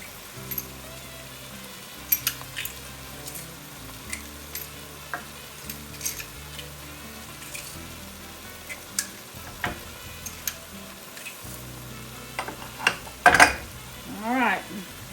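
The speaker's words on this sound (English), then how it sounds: "Work fast and stir. Keep stirring." A roux for andouille sausage and shrimp gumbo is stirred in a pot over a low flame, giving scattered scraping ticks and clicks over a steady low background, with a busier flurry of stirring near the end.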